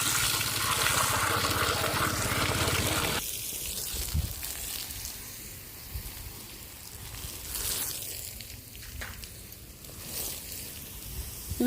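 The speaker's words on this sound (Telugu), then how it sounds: "పైప్తో నీళ్ళు పట్టేసుకున్నాం" Water from a hose pipe gushes in a loud, dense rush for the first few seconds, then cuts to quieter scattered splashes and drips that continue to the end.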